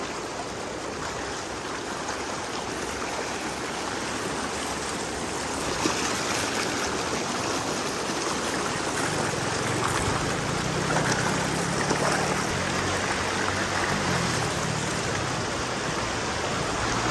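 River current flowing steadily during a river crossing, a continuous broadband rush of water that stays close and fairly loud throughout with no talk over it.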